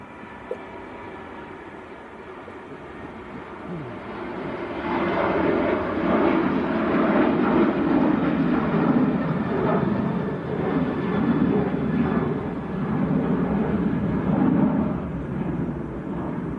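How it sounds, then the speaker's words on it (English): A Ryanair plane bound for Milan departs Manchester Airport, a broad engine roar that swells after a few seconds and holds loud and steady, heard from a distance. "Ryanair to Milan, next to go"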